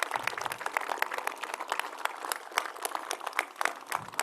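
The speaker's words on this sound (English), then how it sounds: "Let's give them a final round of applause" Audience applause closing a theater performance at an anniversary celebration, a steady wash of many hands clapping at moderate distance, dense and fairly even throughout with no voices on top.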